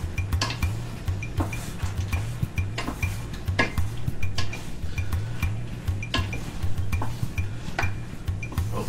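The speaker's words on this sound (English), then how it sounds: "Just stir and fold that pasta in." Penne pasta being stirred and folded into a pan clinks and scrapes in an uneven rhythm, with a utensil knocking against the cookware repeatedly, close and clear with no talk.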